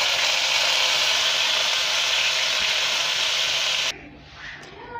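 Ginger and garlic hit hot oil in a pan while cooking a Sri Lankan style prawn biryani, giving a loud, steady sizzling hiss. The hiss drops off sharply near the end, leaving quieter scattered crackles.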